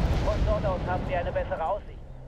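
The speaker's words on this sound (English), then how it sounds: "these tanks are going to be firing at that T-34" Someone talks over tank gunfire in Wargame European Escalation, with tanks engaging a T-34; deep booming rumbles sit under the voice and fade out near the end.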